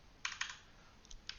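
Several crisp keystrokes on a computer keyboard while entering a WSL mount command, a quick cluster of taps followed by a pause and a couple more isolated clicks, close and fairly quiet.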